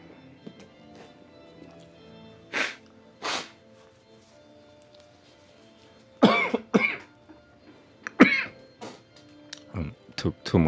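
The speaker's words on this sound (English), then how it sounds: "So coughing," Several separate coughs come in bursts, a couple of isolated ones early and then a denser cluster of loud, close coughs toward the end, over a quiet room.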